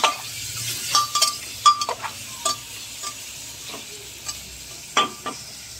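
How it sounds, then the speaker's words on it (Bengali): Chicken pieces fry in melted butter in a pan with a steady close sizzle, broken by sharp clinks and scrapes of a utensil stirring every second or so. "মাখনটার মধ্যে আগে কী দেবো বলো তো, চিকেনটা দেবো। দিয়ে চিকেনটাকে একটু ভাজা ভাজা করে নেব।"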